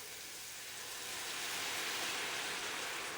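Green bean juice from a can of French cut beans is poured into a hot stainless steel pan of stir-fry vegetables, giving a steady broad hiss of steam and sizzle that swells slightly louder partway through.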